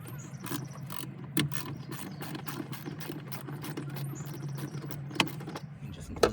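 Clicking ratchet wrench loosening the nut on a 12V battery terminal of a third-generation Toyota Prius, a close, steady run of light mechanical clicks with a few sharper knocks, heard alone.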